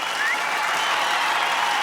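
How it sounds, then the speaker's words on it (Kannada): A studio audience applauds to welcome Huli Karthik and team on a comedy show stage, a dense, loud, steady burst of clapping filling the short moment, with no speech over it. "ಬರ್ಲಿ ಜೋರಾದ ಚಪ್ಪಾಳೆ ಹುಲಿ ಕಾರ್ತಿಕ್ ಅಂಡ್ ಟೀಮ್ ಅವ್ರಿಗೆ"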